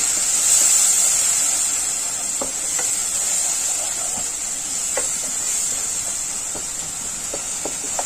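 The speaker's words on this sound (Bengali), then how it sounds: "পেঁয়াজটা একটু ভাজা ভাজা হোক" Onion paste frying in a pan for a chili gravy, a steady loud sizzle and hiss throughout with a few faint stirring clicks, no voices.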